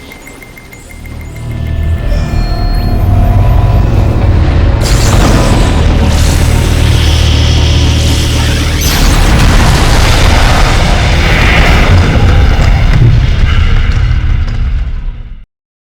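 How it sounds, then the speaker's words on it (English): An ion cannon strike from Command & Conquer 3: Tiberium Wars hits with a huge, sustained blast that roars loud and close, building into a continuous rumbling explosion lasting many seconds. "The ion cannon's been engaged, sir."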